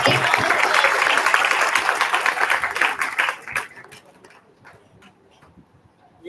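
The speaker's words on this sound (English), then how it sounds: "Give a great round of applause." Audience applause at a university Gender Equality Day event, dense clapping that fades away over several seconds to scattered claps and quiet.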